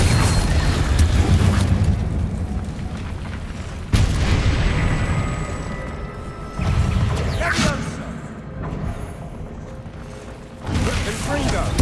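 Repeated Confringo fire-spell blasts in Hogwarts Legacy during a fight with spiders, sharp booming bursts at intervals over a dense rumbling game mix with spoken voice.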